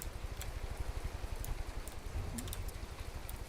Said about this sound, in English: I don't know why I hear rain sounds, because I'm in space.